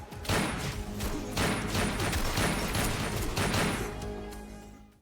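Gunfire rings out in a tense film shootout at a surrogacy facility, a loud, dense barrage of repeated bursts and crashing impacts that continues almost without pause before trailing off.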